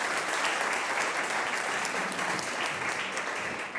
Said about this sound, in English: I think the college district deserves a round of applause.